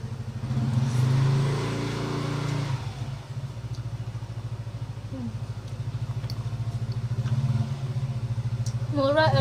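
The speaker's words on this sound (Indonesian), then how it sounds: "kalau ada suara-suara berarti itu adalah motor" Motorcycle engines passing on the street in front of a house, a steady loud buzzing drone that swells at the start and dips around three seconds. Other faint noises sit on top.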